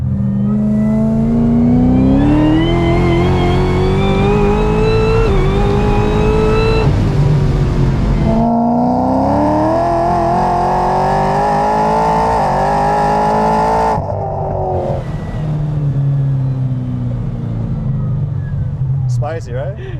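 A 1200-horsepower Corvette C7 Z06 accelerates hard on asphalt, its engine rising in loud repeated pulls through the gears, with each climb cut off at a shift. The roar is heard from close range while people talk over it.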